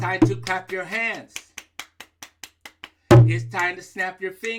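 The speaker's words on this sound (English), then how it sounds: "It's time to clap your hands." A storyteller leading a children's story show claps his hands in a steady, evenly spaced series of about ten sharp claps, framed by spoken chanting before and after.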